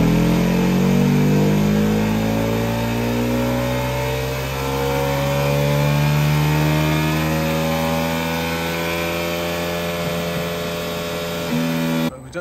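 A Ducati Hypermotard 950 SP motorcycle on a dyno during a base run, its engine loud and close as it revs steadily upward in one long sweep before cutting off at the end.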